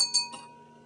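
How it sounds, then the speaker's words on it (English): A penny drops into a glass of water and gives one bright clink against the glass, with a short ringing tone that fades within a second. "if I flick this card out from underneath it, it should fall into the glass of water"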